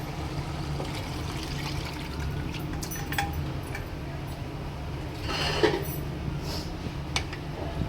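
Mutton gravy from a pressure cooker pours into a pan of cooked onions, a low, steady liquid rush under cooking noise, swelling into a brief splashing gush near the end with a faint clink.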